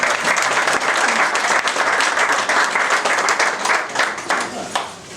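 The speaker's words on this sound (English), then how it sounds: "Let's give him a round of applause." A crowd at a carp fishing competition prize presentation applauds a winner, with dense, loud, sustained clapping that fades toward the end.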